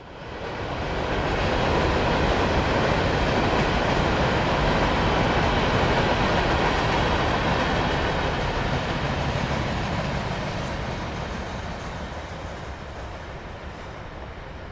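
A long freight train rumbling past, a broad roar that builds quickly, holds steady with rhythmic clatter of wheels, then slowly fades.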